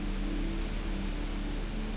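A steady rushing wash of flowing water in the video game Antichamber, even and continuous with no distinct splashes, like a stream heard nearby.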